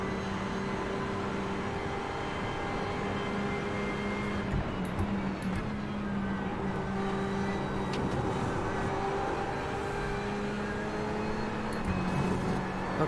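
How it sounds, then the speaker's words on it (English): A Porsche race car in the iRacing sim holds a steady, loud engine drone at speed through the Porsche curves, unbroken and without voices. "A Porsche going fast through the Porsche curves?"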